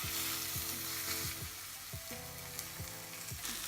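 Burger patties frying in a pan give a steady, close crackling sizzle with no talk, while tonal music plays in the background.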